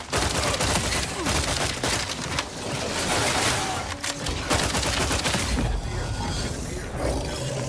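Dense, sustained gunfire from The Outer Worlds 2 video game, rapid automatic bursts with mechanical clatter rolling continuously and loudly throughout, barely letting up for a moment.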